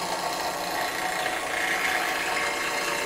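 Skew chisel cutting spinning wood on a lathe, a steady dry scraping hiss with faint rhythmic chatter from the rotating workpiece, close and fairly quiet with no talk.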